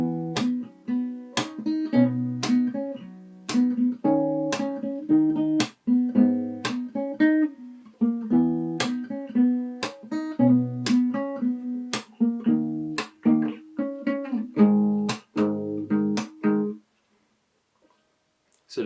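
Close acoustic guitar picked fingerstyle through the two-part chorus of a song, a steady stream of plucked notes and bass tones that stops near the end.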